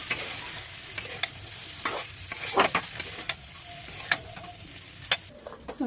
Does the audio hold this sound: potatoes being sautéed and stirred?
yes